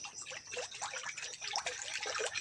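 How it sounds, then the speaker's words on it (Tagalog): Water pours and splashes into a wok in short, bubbly gurgles, close by and fairly quiet. "Butangan na nato og tubig."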